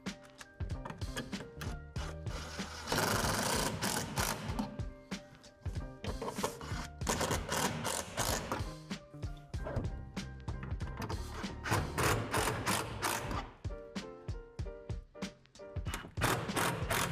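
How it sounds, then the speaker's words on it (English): A drill drives screws to fasten a plastic shed shelf to its brackets, giving repeated close, rattling bursts of whirring and clicking with short gaps between them, loud throughout. "Now secure the shelf to the brackets using 2 screws each."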